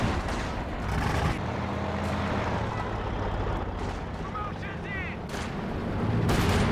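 Gunfire and explosions rattle through a Company of Heroes 2 battle, with bursts of shots and heavy booms over a dense, rumbling background while a commentator talks.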